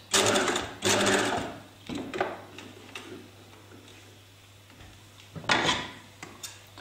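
A domestic sewing machine stitching a lapped zip, running in short bursts with pauses between, its rapid mechanical whirr and ticking close and clear, with quieter clicks of the presser foot lever between runs.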